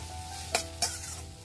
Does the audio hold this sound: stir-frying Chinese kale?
yes